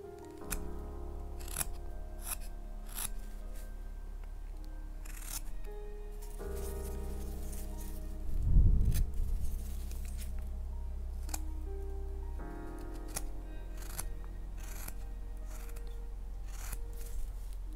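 A knife carves a small wooden hina doll figure, cutting the corners off a squared block. Repeated short scraping and slicing strokes come close up, with a denser rubbing patch midway and a low hum underneath.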